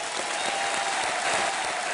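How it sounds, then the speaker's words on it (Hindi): Strong, dense audience applause in a game show studio as Rahul Gandhi takes the hot seat, a continuous even roar of clapping from a large crowd. "एक बार फिर जोरदार तालियां उनके लिए"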